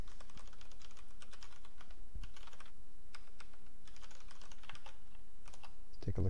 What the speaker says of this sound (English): Let's just type it in again.